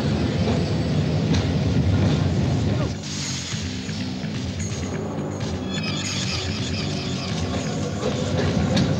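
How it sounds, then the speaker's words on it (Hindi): A train starting to move in a Hindi dubbed South Indian action film, a dense rumbling engine and rolling clatter with a brief knock midway, loud and continuous under a busy soundtrack. "ट्रेन स्टार्ट होने दो।"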